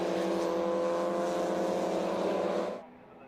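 Mazda MX5 race cars lapping Snetterton circuit, a loud continuous engine roar with steady harmonic drone that holds for nearly three seconds, then drops away abruptly.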